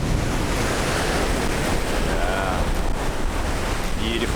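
Ocean surf rolls in at Dahican beach in Mati, Mindanao, Philippines, a continuous loud wash of waves mixed with gusting wind buffeting the microphone.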